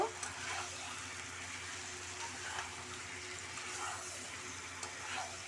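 Chicken curry is stirred in a frying pan, making a soft, even bubbling sizzle at low volume with light scraping swishes from the spoon and no clear talking.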